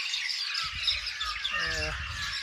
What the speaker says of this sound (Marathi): हा मधुर चिवचिवाट कानाला खूप सुखावतो आहे.